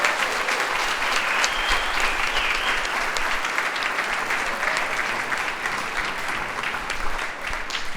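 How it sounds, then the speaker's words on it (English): Sustained applause from a symposium audience for an award winner, a dense, steady clatter of many hands filling the room at full volume from start to finish without a break. "Give them a round of applause."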